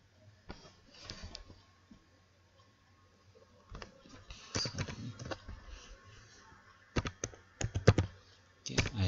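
Keys clatter on a computer keyboard in quiet, irregular bursts of typing, with short pauses between runs of clicks, close by and soft.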